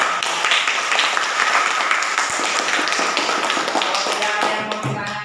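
A classroom of students claps together, a dense, loud burst of rapid hand claps sustained throughout and easing slightly at the end.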